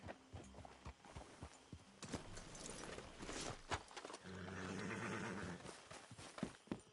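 Horses clip-clopping as riders come to a halt outside an abandoned place, irregular hoof thuds alongside a snort or whinny, fairly close, with shuffling and movement around them.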